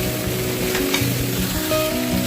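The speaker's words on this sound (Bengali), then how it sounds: "এবার যে মাটন সিদ্ধ করে রেখেছিলাম, সেই সিদ্ধ করা মাটনটা দিয়ে ফ্রাই করছি" Boiled mutton frying in mustard oil with a dense, steady sizzle that stays loud and close, plus occasional spoon scrapes and shifting bubbling tones.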